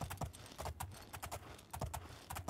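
Horse hooves clip-clop in the Oblivion game, a quick uneven patter of soft hoof strikes repeating in small clusters, fairly faint.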